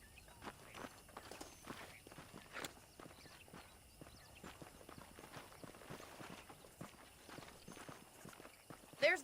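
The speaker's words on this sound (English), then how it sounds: "The horses are saddled up over here." Horse hooves clip-clop on the ground in the Red Dead Redemption video game, a steady walking rhythm of soft, fairly close footfalls with a voice talking over them.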